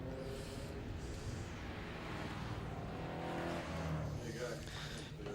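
Historic race cars run a warm-up lap at a racing festival, with a dense, loud roar of engines and passing cars filling the scene and a commentator talking over it.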